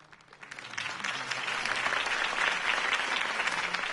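Crowd applause in Batman: The Telltale Series, rising over the first half second from a quiet start into a steady, dense wash of many hands clapping that holds to the end.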